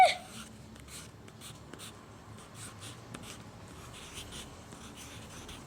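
A pen scratches across paper while arithmetic answers are written down during an exam, a faint run of short, irregular strokes in a quiet room.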